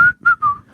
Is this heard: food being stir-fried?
no